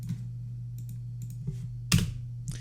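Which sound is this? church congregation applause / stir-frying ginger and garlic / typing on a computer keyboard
typing on a computer keyboard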